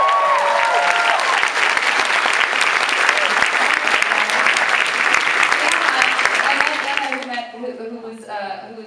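Sustained audience applause at a Legend of Korra convention panel, dense loud clapping from a large crowd lasting several seconds before fading as a voice begins speaking.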